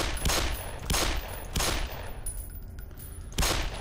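Bursts of gunfire in the video game Black Mesa, four sharp volleys spaced about a second apart with a lull before the last, loud and close with no voices.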